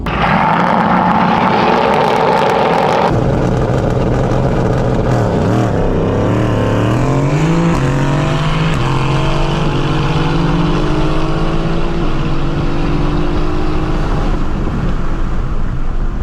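A Mercedes-AMG GT S and a Stage 2 Mercedes-AMG GT R drag race on a private road in Mexico, engines roaring and revving together, pitch climbing through gear changes, a continuous rising drone with no talking.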